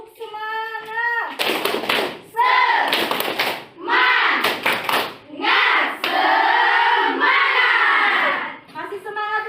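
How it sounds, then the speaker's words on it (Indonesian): An Indonesian primary classroom performs a rhythmic spirit clap, bursts of sharp hand claps from many children alternating with chanted, sung voices in a patterned call-and-response, close and loud. "Tepuk semangat."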